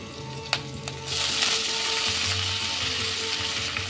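Shredded cabbage with dried red and green chillies hits hot oil with mustard seeds, and a steady loud sizzle swells and holds after a couple of sharp clinks, with no one speaking.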